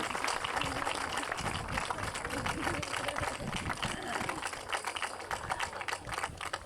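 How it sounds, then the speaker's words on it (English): A graduation audience at Douglas, Massachusetts high school breaks into steady, dense applause, a continuous crackle of many hands heard from a distance and lasting several seconds, with a murmur of voices mixed in. "please join me in a round of applause for your parents, guardians, and family members in the audience"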